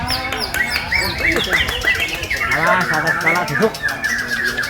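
Murai batu (white-rumped shama) at a songbird contest pouring out loud, rapid, varied whistled phrases and chirps nearby, layered with other birds and people talking over it.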